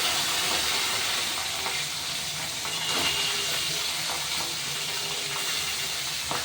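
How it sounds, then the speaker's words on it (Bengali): Catla fish head frying in a kadai of hot oil gives a loud, dense, continuous sizzle with crackling pops throughout, close by and alone with no talk. "কড়াইয়ের তেল গরম হয়ে গেছে, এবার মাছের মাথাটা তেলে দেবো"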